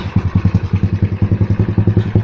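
A motorcycle engine runs with an air leak at the carburetor intake, giving a rapid, lumpy, evenly pulsing chug close to the microphone, with no talking.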